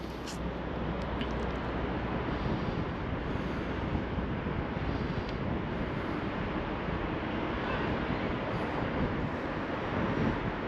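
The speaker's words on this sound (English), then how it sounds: "A little bit breezy now as well, a little bit windy, which is annoying." Steady broadband wind buffeting rushes across the microphone without a break in Sheffield, a constant roar with no voices.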